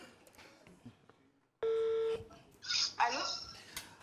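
Someone dials a telephone number to place a call: a single long steady tone sounds, then a quick run of dialing beeps follows, with faint voices in the background before it.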